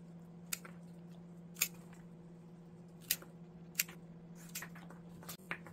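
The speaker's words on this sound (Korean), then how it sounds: "이제는 끝에를 잘라줍니다. 전지가위로" Pruning shears snip the ends off white bellflower stems brought in from a field, a few sharp isolated clicks spread across the stretch over a steady low hum, with no talking.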